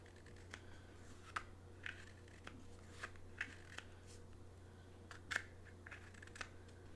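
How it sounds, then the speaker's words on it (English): A keyboard duster being played with makes soft intermittent hissing bursts and light clicks, scattered irregularly over a quiet background hum. "I'm playing with a keyboard duster."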